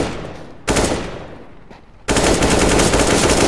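Counter-Strike gunfire: rapid automatic bursts, loud and close, one short burst followed by a decaying tail, then a sustained stream of shots to the end.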